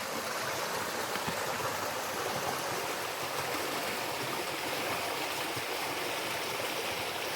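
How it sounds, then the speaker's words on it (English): A natural river flows steadily nearby at a ryokan open-air bath in Nishiwaga, Iwate, Japan, a constant rushing, burbling wash of water with no voices. "And then this is a natural river."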